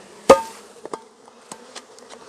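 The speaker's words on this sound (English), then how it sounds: "Now, I'm just gonna pour these bees in." Honeybees from a package are poured into a hive, giving a soft buzzing under a sharp knock at the start and a few lighter taps.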